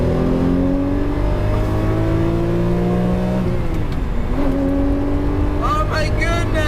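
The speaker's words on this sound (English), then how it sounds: "here we have some proper straight lines to launch the Murcielago" A Lamborghini Murcielago V12 with a 6-speed manual roars at full throttle on a straight, its pitch climbing steadily, then dropping briefly as it shifts gear before pulling hard again, loud and close.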